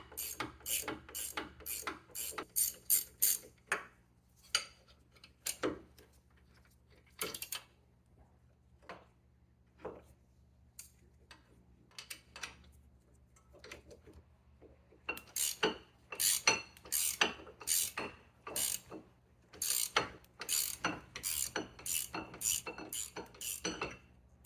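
Bolts being loosened and backed out of the front brake assembly on a 2017-2023 Chevrolet Bolt EUV, heard as bursts of quick metallic ratcheting clicks, a lull with scattered taps, then another run of rapid ratchet clicks, close and fairly clear.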